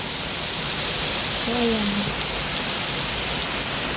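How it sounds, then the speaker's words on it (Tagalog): Heavy rain during a solo hike in a rainstorm at Yuen Chau Kok Park, a dense steady hiss of downpour all around, with a brief spoken phrase over it. "So 2:40 nag-start yung malakas na ulan."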